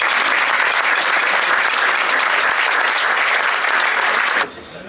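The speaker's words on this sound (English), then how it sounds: "So a warm round of applause to a Mr." Loud, dense applause from an audience aboard a cruise ship, steady clapping that fills the space for about four seconds and then cuts off sharply into quiet room tone.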